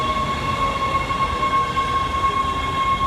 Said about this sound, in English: Here comes the train, so if you can hear me, that's the train.